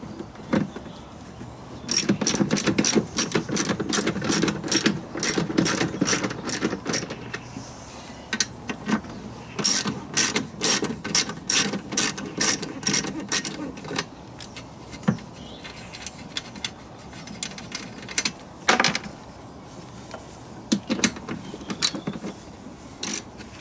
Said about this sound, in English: Take the panniers off on the side. Little 1/2 inch nut there.